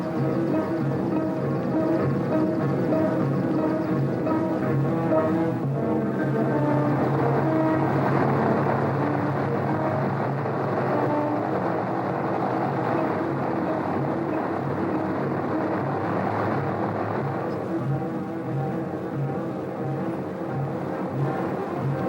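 Piston engines of a Boeing 377 Stratocruiser airliner as it begins to move: a continuous loud droning roar with layered tonal hum, swelling in the middle and easing slightly toward the end.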